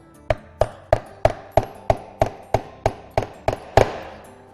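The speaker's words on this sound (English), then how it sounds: "you can take either a nail with a hammer" Hammer tapping a nail against a countertop to make a starter spot for drilling, twelve sharp evenly spaced hits, close and loud with no talk.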